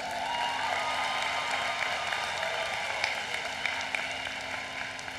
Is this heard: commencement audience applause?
yes